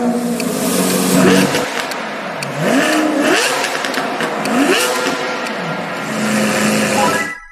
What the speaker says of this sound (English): That final, world-ending, naturally aspirated V12 scream. Lamborghini Aventador S.